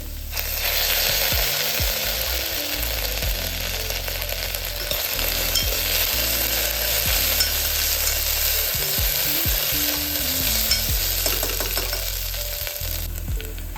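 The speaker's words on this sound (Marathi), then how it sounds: "आता आपल्याला यामध्ये आलं लसणाची पेस्ट टाकायची" Ginger garlic paste sizzles and fries in a hot pan with onion, a steady loud crackle broken by repeated scraping and clicking strokes of a spoon stirring.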